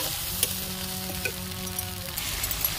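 Onion and spices fry in mustard oil for an Odia village-style fish curry, a dense close sizzle with light crackles and faint stirring scrapes throughout.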